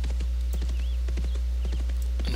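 Steady clip-clop of horse hooves while riding in the Dark Age of Camelot online game, a quick even rhythm of hoofbeats over a constant low hum, with no voices.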